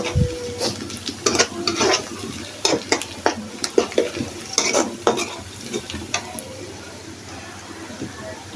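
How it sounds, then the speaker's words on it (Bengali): Leftover eggplant curry reheats in a pan, with repeated clattering scrapes and knocks of a spoon stirring through a continuous sizzle, loud and close, easing to a quieter simmer toward the end. "এটা হচ্ছে কালকের বেগুনের তরকারিটা গরম করছি"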